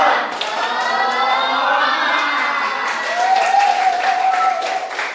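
A school class of students doing a 'tepuk semangat' spirit clap chant, a loud crowd of young voices chanting and shouting together with clapping in a classroom, continuous and close, rising into cheers near the end.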